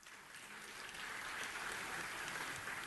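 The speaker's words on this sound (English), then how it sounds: "Can we give the judge and his students a round of applause?" Applause at a city council meeting for a visiting judge and his students, a steady, moderately quiet clapping that swells slightly and holds throughout.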